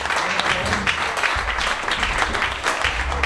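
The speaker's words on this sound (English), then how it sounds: "Let's have a big round of applause for Dave for taking the time to come down" An audience at a live podcast show gives a round of applause, a steady burst of clapping with a few voices and cheers mixed in, loud and continuous throughout.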